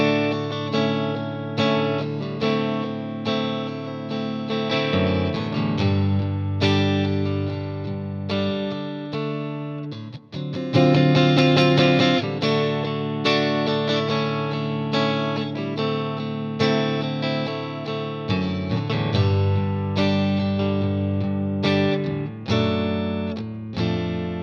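An electric guitar strums the chord progression of a song with a slightly distorted, chorus-tinged tone, each chord ringing out before the next change.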